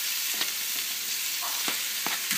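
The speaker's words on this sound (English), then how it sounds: "now we're going to throw in the beef strips and we're going to brown them with the onions" Beef strips browning with onions in a hot pan for beef stroganoff, a steady close sizzle with a few sharp crackles and pops standing out over the frying hiss.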